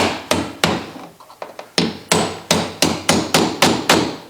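Nails being hammered into wooden cabin roof shingles: loud, close, evenly spaced hammer blows, a couple of strikes, a run of lighter taps, then a steady series of about nine solid hits.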